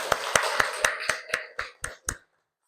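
Rhythmic claps in a classroom, about nine sharp evenly spaced hits, close and fairly loud, tapering slightly before stopping abruptly.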